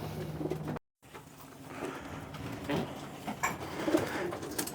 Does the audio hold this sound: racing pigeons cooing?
yes